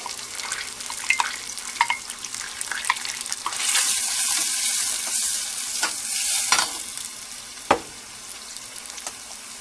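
Diced onion fries in melted butter and olive oil in a pan, giving a soft, close sizzle with scraping stirs and a few clinks of utensils. The sizzle swells briefly in the middle.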